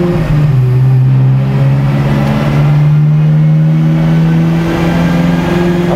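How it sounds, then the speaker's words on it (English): A cheap exotic car revs hard with its valved exhaust opened by a button, a loud close engine note rising and holding steady, with no talking. "when I open up these valves with this button here, I basically have an open exhaust"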